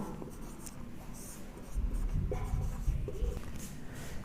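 Pen or chalk strokes writing a two-variable linear equation by hand, scratchy bursts of soft scraping close by, growing busier midway with short pauses between strokes, no talking.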